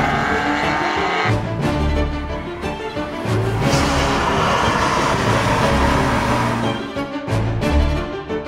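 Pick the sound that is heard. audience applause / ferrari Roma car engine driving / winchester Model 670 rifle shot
ferrari Roma car engine driving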